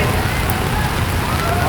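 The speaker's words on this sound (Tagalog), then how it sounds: "habang bumubuhos ang ulan. Medyo humupa na ng konti, pero ito, umuulan na naman po" Heavy rain pours down during flooding on a Manila street, a dense, loud, continuous hiss of water striking surfaces with no break.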